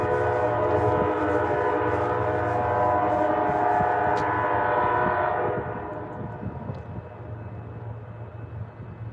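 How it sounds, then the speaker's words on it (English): A train passes nearby with a long, loud, multi-tone horn blast over rumbling wheels, the horn cutting off midway as rolling rail noise fades. "We get trains all day and all night."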